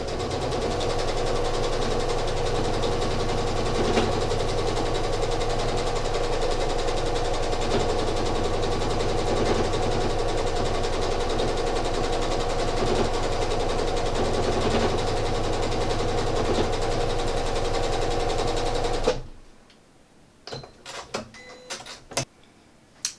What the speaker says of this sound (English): I'm just going to start stitching and see where this second ribbon lands.